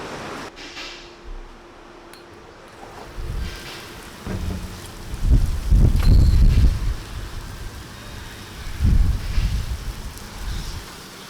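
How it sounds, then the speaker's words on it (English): Heavy rain drums steadily while deep rumbling swells rise and fall in loud waves, like hail or a downpour with thunder. "It's hailing, isn't it? Or just heavy rain."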